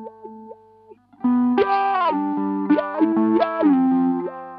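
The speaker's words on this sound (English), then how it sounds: "now we're going to move it into talk. And this is more kind of vowel-like sounds," Electric guitar through an Electro-Harmonix Cock Fight wah fuzz pedal in talk mode, giving distorted notes vowel-like, mouthy filter sweeps, loud and close, with a few quiet notes followed by sustained fuzzy phrases.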